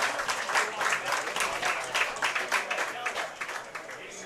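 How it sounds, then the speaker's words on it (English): A studio audience on a racing talk show claps in a dense burst that swells and then thins into scattered claps, fairly close and lively. "That's the first round of applause"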